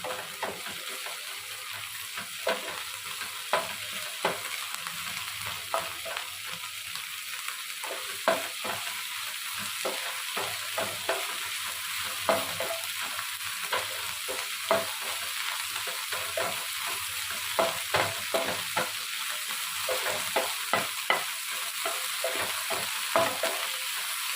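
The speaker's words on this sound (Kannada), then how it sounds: "ನೋಡಿ, ಇದು ಫುಲ್ಲು ಫ್ರೈ ಆಗ್ತಿದೆ. ಸೊಪ್ಪು, ಪುದೀನ ಮತ್ತು ಕೊತ್ತಂಬರಿ ಜಾಸ್ತಿ ಫ್ರೈ ಆಗಬೇಕು." Chopped greens, mint and coriander fry in a pan on a high flame for masala tomato bath, a loud steady sizzle broken by frequent rhythmic scrapes and taps of a stirring spoon.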